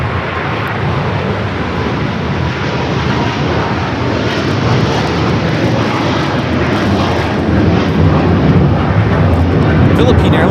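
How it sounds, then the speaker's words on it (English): A Philippine Airlines Boeing 777-300ER, flight 113 to Manila, takes off from LAX with a loud, sustained broadband jet roar that swells slightly toward the end, while voices murmur underneath. "Philippine Airlines Flight 113 taking off to Manila on the 777-300ER"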